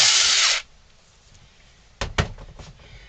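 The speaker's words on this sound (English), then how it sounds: "So we got our holes drilled there." Close, loud power drill boring into a wooden ventriloquist dummy for about half a second, then a quiet pause and a few sharp knocks and rattles of handling the wood.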